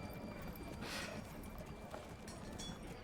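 Horse hooves clip-clop in the Manor Lords video game, a steady dense patter continuing throughout under a constant background bed of game ambience.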